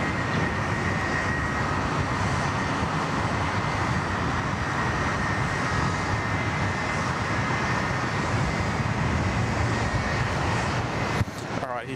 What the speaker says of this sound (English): Singapore 212, runway 34 left, clear for takeoff.